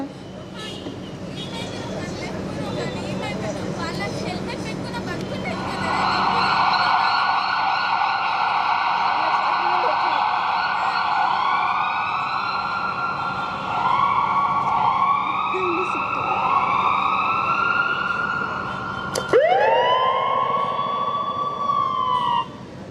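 An ambulance siren at a road accident at a crossroads wails loudly in rising and falling sweeps, with a second siren swelling in near the end, over steady traffic rumble and voices.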